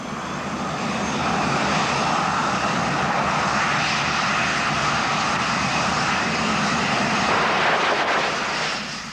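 Fixed-wing aircraft engine running during a runway test, a steady loud broadband roar with no talk, holding at a constant level throughout before easing slightly at the end.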